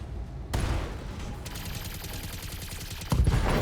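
Trebuchet mech in BattleTech fires a volley of weapons, sharp bursts of rapid shots and explosive impacts, with a big blast near the start and another heavy one at the end, loud and close.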